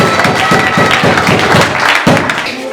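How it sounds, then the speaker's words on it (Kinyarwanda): A church congregation claps in praise to God, a steady wash of many hands applauding at close range, loud and continuous with a few sharper bursts. "Komera Imana amashyi cyane."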